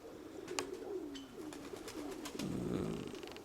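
Domestic pigeons coo in a loft, low rolling calls repeating close by, with a few sharp bird chirps and clicks scattered above them.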